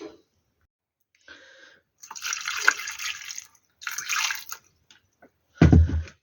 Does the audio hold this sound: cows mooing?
no